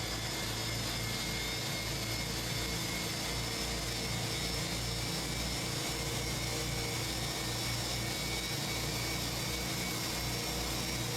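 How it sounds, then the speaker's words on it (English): Airbus A320 jet engines in Microsoft Flight Simulator give off a steady, even whine and roar, sustained at moderate loudness with faint tonal hums layered over the broadband rush and no voices. "Phoenix has done an outstanding job with the sound quality of these engines."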